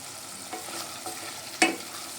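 Chicken pieces are stirred in a pan while frying, with soft scraping strokes at a steady pace and a sharper clatter near the end over a constant low sizzle.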